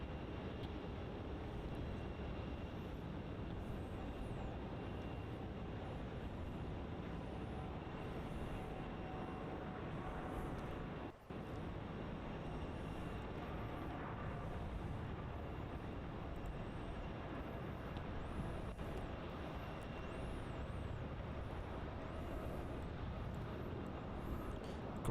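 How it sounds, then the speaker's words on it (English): An airliner rolls down runway 34 at Melbourne Airport, a steady broad engine roar heard from a distance and sustained throughout without talk. "There it is, rolling down runway 34."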